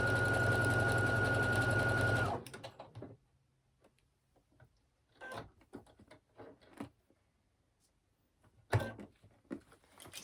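A sewing machine stitches stretchy leggings fabric in one loud, steady two-second run, followed by quiet handling clicks and a couple of brief needle taps.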